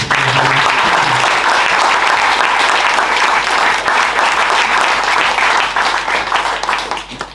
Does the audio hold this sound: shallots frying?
no